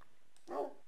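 A single short, muffled dog bark, fairly faint, over a quiet background.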